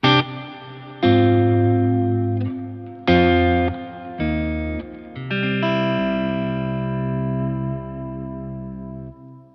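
An electric guitar through a Walrus Audio ARP-87 delay pedal and RMX 16 reverb plays sustained, distorted chords and notes, each one ringing out in long, washy ambient trails.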